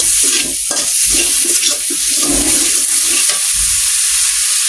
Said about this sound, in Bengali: জালটা অন করব, মিডিয়াম জাল দিব, দিয়ে ভেজে দিব।